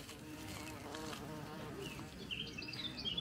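A bee buzzes steadily and fairly close outdoors, its drone holding on without pause, with a few faint higher chirps toward the end.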